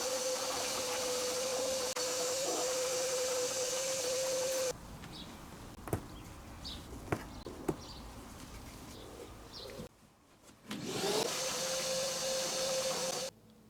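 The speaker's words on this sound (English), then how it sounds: "A deep vacuum to remove all the debris." A vacuum cleaner deep-cleaning the carpets of a 20-year-old BMW 7-Series: a steady whining motor hum, then a few quieter seconds with clicks and knocks before the motor noise swells again.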